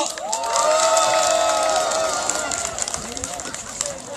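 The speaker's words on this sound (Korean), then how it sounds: "여러분, 뜨거운 박수 한 번 더 부탁드리겠습니다." Crowd at an outdoor rally clapping and cheering, with a sustained tonal voice or whoop riding over the applause before the clapping breaks into scattered claps near the end.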